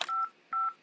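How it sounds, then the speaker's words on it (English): Phone dialing tones from a cell phone in the Henry Stickmin video game: two clear, steady beeps with a short gap between them and the start of a third, with no talk over them. "How can we go wrong with the cell phone?"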